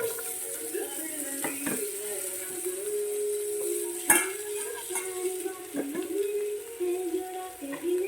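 Chopped potatoes and carrots sauté in a pan for egg stew, a soft sizzle under repeated scraping and stirring of a utensil against the pan, with occasional sharp clinks.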